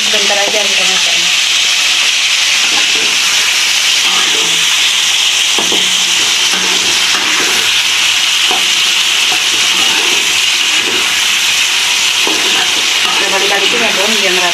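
Long beans stir-fried in a pan for a home-style Padang dish send out a loud, continuous sizzle, with repeated scraping and stirring strokes over it and no voices.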